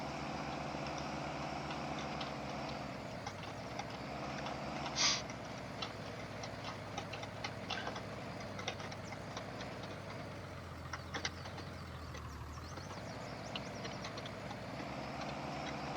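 A low, steady pickup truck engine idle in Farming Simulator 19 with a rhythmic ticking knock, droning evenly at moderate volume with small clicks along the way.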